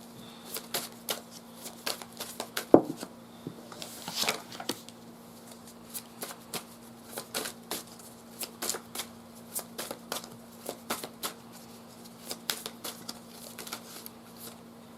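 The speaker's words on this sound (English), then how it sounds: "Did not mean to flip over all these cards" Tarot cards being shuffled and flipped on a table, a long run of soft, close riffling snaps and slaps with one sharper knock early on, faint quiet talk in the background.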